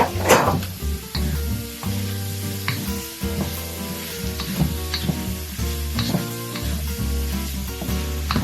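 Tomatoes and shrimp frying in a pan for shrimp pasta, a loud steady sizzle with stirring scrapes and clacks of a utensil against the pan throughout.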